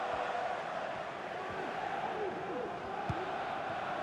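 Stadium crowd noise from a FIFA 23 Champions League match, Man City versus Inter Milan, a steady roar and murmur running throughout with a commentator's voice over it.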